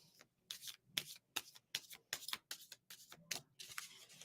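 Tarot cards are shuffled before a reading, giving a quick run of about a dozen crisp riffling bursts in an even rhythm. They are close but soft, with only faint background noise between the strokes.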